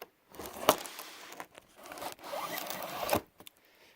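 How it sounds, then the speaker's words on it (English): A tape cutter slices through the packing tape on a George Foreman grill box in a few quick scraping, crinkling strokes, close up with short pauses between them. "let's start opening it up here. Get out my handy dandy tape cutting tool."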